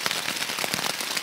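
Steady rain pattering densely on surfaces outdoors, a loud, even hiss of drops with no pauses and no voices.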